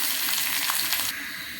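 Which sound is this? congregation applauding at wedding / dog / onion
onion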